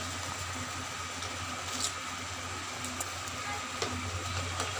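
Spice masala for Bengali prawn malai curry fries in oil, a steady low sizzle with faint scraping stirs over a constant background hum.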